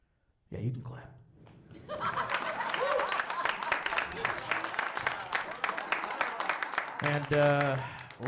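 At a comedy show in Chicago, audience clapping swells after a short pause and mixes with chuckles and laughter, holding fairly steady before a brief burst of voices near the end.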